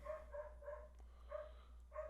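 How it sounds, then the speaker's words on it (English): A dog barks in repeated yips and short barks from another room upstairs, fairly faint and muffled, about five barks in an irregular rhythm over a low hum. "My dog upstairs has decided to go crazy"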